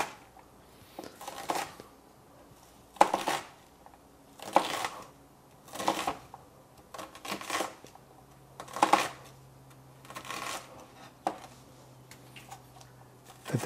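Knife dicing an onion on a cutting board: a series of separate sharp chopping knocks at an uneven pace, close and fairly quiet, with pauses between cuts.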